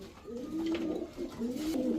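A male racing pigeon, club-stamped and tournament-flown, gives a series of clear, close, resonant coos in rising and falling rolls.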